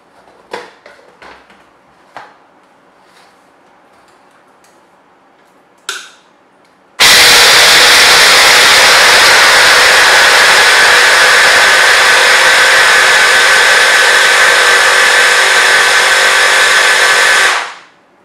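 An electric grinder runs continuously for about ten seconds as it grinds mixed nuts into flour, loud and harsh, then stops abruptly, after a few quiet clicks and handling knocks.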